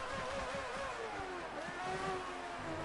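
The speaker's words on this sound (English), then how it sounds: "I like the sound of the engine as well." A Ferrari Formula 1 car engine in F1 2019 revs continuously with a high, wavering whine and fluctuating pitch, steady and fairly loud throughout.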